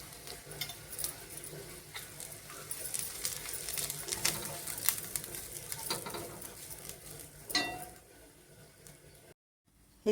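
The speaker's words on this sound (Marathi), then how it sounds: "त्याच्यामध्ये आपण खोबरं घालूया आणि खोबरं पण आता व्यवस्थित परतून घेऊया" Grated coconut sizzles and crackles in a pan with roasted onion, stirred with scraping spoon strokes that come close and loud, then the frying fades and briefly drops to silence near the end.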